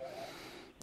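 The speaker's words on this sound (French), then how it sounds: "Alors, une respiration." A single soft breath taken during a breathing exercise is heard as a faint, close airy exhale with a slight wheeze, ending in a brief snort-like puff.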